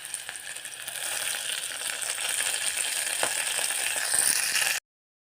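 Green chilies and fenugreek leaves fry in a pan with a steady, close sizzle and crackle that carries on evenly until it cuts off abruptly near the end.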